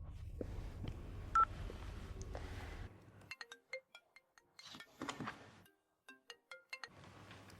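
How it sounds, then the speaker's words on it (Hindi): A phone keypad beeps through a quick string of dialing tones, then a ring tone sounds, clear and close in an otherwise quiet room. "फोन करके देख।"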